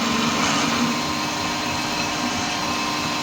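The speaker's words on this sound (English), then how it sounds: "We'll drill this through" A 15mm drill bit boring through a custom chopper frame stud, a loud steady whirring motor drone held throughout with continuous grinding texture.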